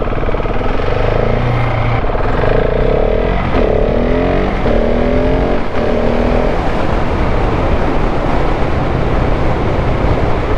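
A 2026 KTM 690 SMC R supermoto ridden around a parking lot in its lowest-power street mode: a continuous loud engine drone that rises and falls in pitch as the throttle changes, with heavy rushing wind noise throughout.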